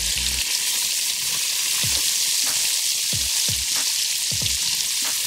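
Chopped vegetables cooking until translucent in a pan over medium-high heat, giving a steady close sizzle and crackle with a few soft thumps of stirring and no talking.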